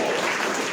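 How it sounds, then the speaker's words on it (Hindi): A seated audience claps once together, a short dense burst of applause that fills the room and cuts off quickly. "एक ताली"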